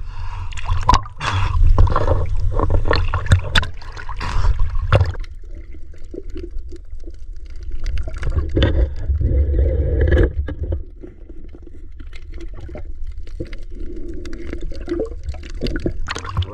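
Choppy splashing and sloshing water slapping against a hull, loud bursts at first then a rougher churning wash, no talking.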